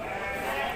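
Sheep bleat in a busy sheep and goat market, a steady, dense wavering chorus of many animals with the crowd's noise behind it.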